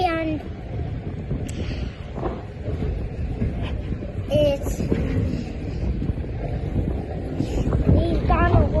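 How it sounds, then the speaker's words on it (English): Steady wind roars and buffets the microphone throughout aboard a boat, with water sloshing nearby and a voice speaking over it. "it's very windy"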